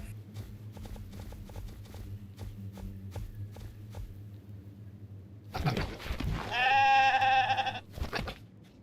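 A goat in a video game gives a wavering bleat near the end, after a stretch of steady low hum and a run of soft clip-clopping steps and sharp clicks; no talk.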